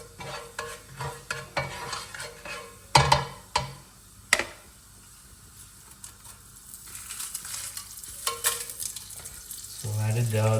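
Curry leaves and red chilies sauté in a pan for a Chettinad chicken gravy, with crackling sizzle and scattered sharp stirring knocks and scrapes, quieter in the middle, no talking.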